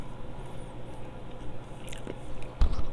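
Biting into and chewing a bagel with cream cheese, soft close-up munching with small crunches and one louder bite near the end, no talking.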